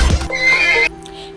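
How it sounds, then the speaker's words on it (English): A horse whinnies loudly and close by in a storytelling sound effect, the neigh rising and then breaking off into a quieter, fading tail, with no voices over it. "he mounted on the horse and flew just like a falcon straight to the home of Princess Helen."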